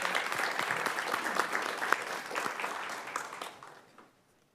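Applause from an audience at a live public meeting, a steady dense wash of clapping that fades out toward the end, with no voices.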